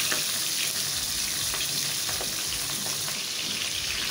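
Fish head frying in plenty of very hot mustard oil, a steady close crackle and sizzle running throughout with small scattered pops.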